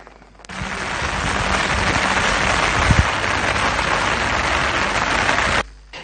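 Heavy monsoon rain pours continuously in Jaffna, where flooding has entered homes, forming a loud, dense hiss that starts abruptly and holds steady for several seconds, with no voices present.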